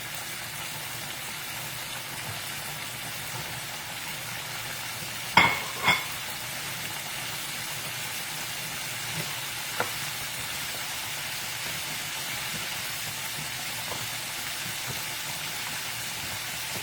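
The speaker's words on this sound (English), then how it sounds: "you'll see your grease start to kind of fizzle around" A pork chop fries in hot grease in a home kitchen, giving a steady broadband sizzle throughout, with a couple of sharp clicks or spatters near the start and faint utensil taps later.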